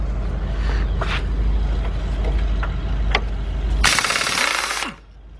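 A 1/2 inch drive tool with a deep 13 mm socket works bolts loose on a 2002 Dodge Stratus 2.4 engine, a steady close rattling hum with a few clicks, then a loud burst of rapid hammering near the end.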